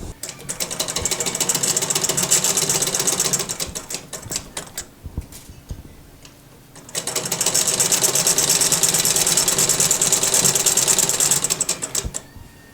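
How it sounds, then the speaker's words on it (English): A sewing machine runs at close range, stitching lace onto a Gunne Sax inspired dress, with a rapid mechanical needle chatter in two long runs separated by a short pause. "And I am going to sew it down both sides."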